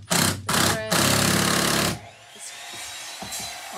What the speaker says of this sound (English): the screws are going in, but first they had to be pre-drilled